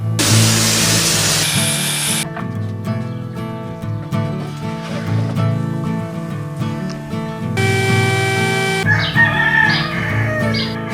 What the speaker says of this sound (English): shut the heck up, you stinking roosters